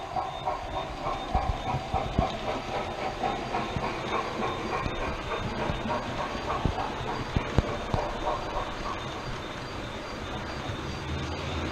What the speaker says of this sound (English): we'll catch Oliver Cromwell going through